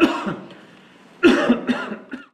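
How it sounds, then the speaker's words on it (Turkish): A person coughs once, pauses, then lets out a close, loud burst of several harsh coughs, with no speech alongside. "Grip sonrası başlayan ve bir türlü geçmeyen öksürük şikayetleri arttı."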